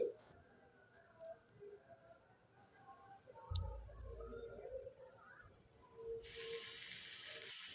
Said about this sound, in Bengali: আমি এখানে মিক্সিং জারটা ধুয়ে একটু জল দিয়ে দেবো